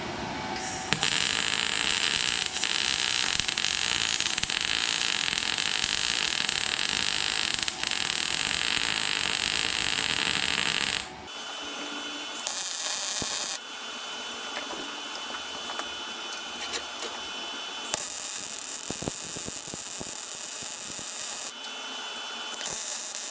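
Welding on a DIY welding cart: a loud, steady, hissing crackle runs close for about eleven seconds, then shorter welding bursts follow with brief pauses between them.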